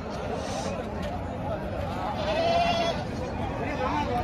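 Young rams about three months old bleat at a crowded livestock market in Piler, the calls rising over a constant hubbub of people talking nearby.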